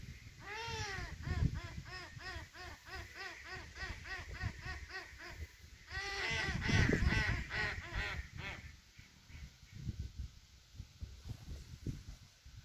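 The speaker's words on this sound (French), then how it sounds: "ce spectacle des canards qui volaient et qui venaient se poser sur l'étang" Ducks on a pond call in loud, repeated honking quacks, with bursts of overlapping calls from several birds close by and a steady outdoor hum beneath.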